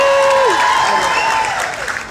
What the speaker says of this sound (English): Let me get one more clap.